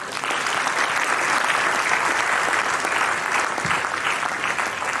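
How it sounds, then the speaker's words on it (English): Sustained crowd applause at a graduation ceremony in a large hall, a continuous wash of many hands clapping at an even level from start to finish. "it would be really great if all of us can get together and applaud once more to all of us"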